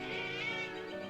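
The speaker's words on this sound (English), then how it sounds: "Cat." A cat meows in a video game, a single sustained, loud meow with rising and falling pitch that fills the whole moment, alone without talk.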